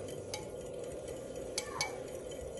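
Sugar being stirred into a liquid until it dissolves, heard as a soft, steady swishing with a few faint clinks of the spoon against the container, quiet and close.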